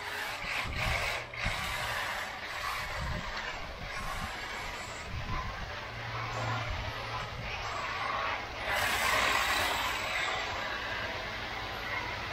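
A cheap toy RC drift car modeled on a Nissan GTR drives with a whirring, ratchety motor buzz, pulsing as the throttle is pumped, close and steady.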